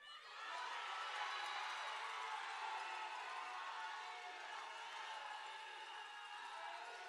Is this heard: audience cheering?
yes